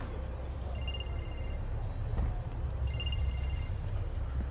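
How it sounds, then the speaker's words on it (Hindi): A telephone rings twice in short warbling bursts over a low steady room hum, with a soft thud between the rings and no voices. "फोन आ रहा है तुम्हारा।"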